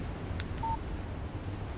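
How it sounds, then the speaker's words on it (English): A phone alert chimes for an incoming text message in the video game Alan Wake: two quick high blips followed by a short clear tone, over a low steady background hum. "Text message from Barry."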